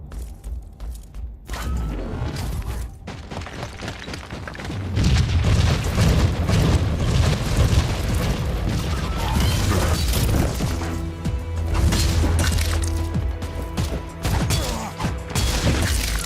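Grenade blast in the video game Warhammer 40K: Inquisitor - Martyr, a loud deep boom followed by crashing debris and rumbling combat noise that keeps going for several seconds.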